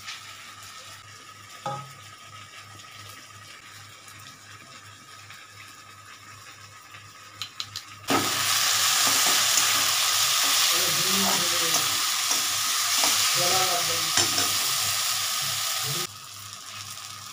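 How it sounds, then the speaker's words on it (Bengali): Spice masala for ghugni sautés in a pan with a quiet sizzle until hot water is poured in, and then a loud, steady, steamy hiss takes over and runs for about eight seconds before it drops back. "মশলাটা একটু কষানো হোক। গরম জল দেবো।"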